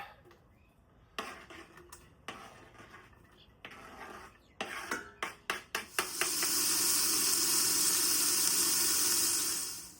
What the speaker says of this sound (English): Chuck that in there to fry a little bit